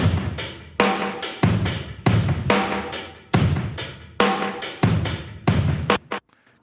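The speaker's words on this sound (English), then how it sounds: "the delay I'm using is just good old Echo Boy" Drums from a mix of "When The Levee Breaks" with an Echo Boy delay effect, playing loud heavy hits in a steady rhythm with echoing repeats between beats, then cutting off near the end.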